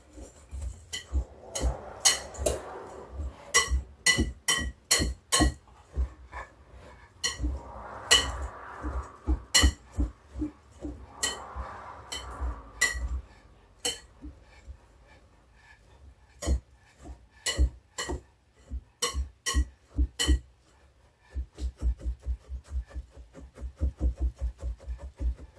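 Repeated sharp clinks and scrapes of a utensil against a deep bowl while oatmeal cookie ingredients are mixed, in bursts of rapid strokes with short pauses, close and fairly loud, with no talking.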